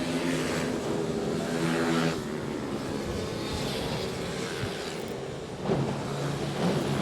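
Honda Grom and XR100 minibikes racing in a sprint heat at AMR Motorplex, engines droning and revving from mid-distance as the pack passes, with a rising surge near the end.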